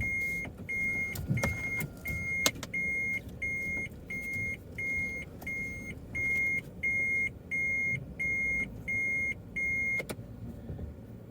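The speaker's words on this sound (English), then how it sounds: "We're even backing the car into the garage." Car reversing into a garage with a regular electronic reverse beep repeating about twice a second, loud and clear over a low engine hum, with a few sharp clicks.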